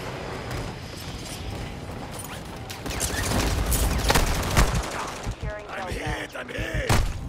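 Bursts of rapid gunfire and mechanical weapon clatter fill a ground-war shooter video game, with game voices calling out over dense, continuous combat noise that grows louder partway through.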